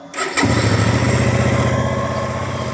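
A 2015 Hyosung ST7 700 motorcycle engine cranks briefly, then catches and settles into a loud, steady, throbbing idle close by.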